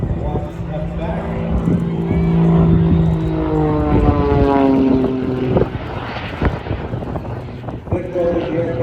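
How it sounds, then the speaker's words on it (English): A turbine-powered display aircraft climbs vertically at an air show, its engine a loud, steady roar with rising and falling whine, while a commentator talks over it throughout. "Now he's just using the power from the turbine"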